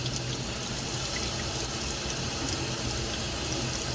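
Tap water running steadily into a container while the soaking water on fermenting tomato seeds is changed, a continuous close hiss and splash with no pauses.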